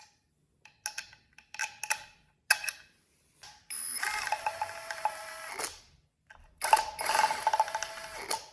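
Intermittent clicking of a ratchet tightening engine head bolts on an ATV engine, with short ticking bursts followed by longer steady ratcheting runs, close and fairly quiet.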